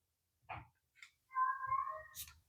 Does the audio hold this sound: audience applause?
no